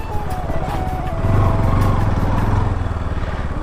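A motorcycle engine idling close by as the bike is parked on a cold evening in Haldwani city, a steady loud low chug with a slight rise in revs midway and no talking.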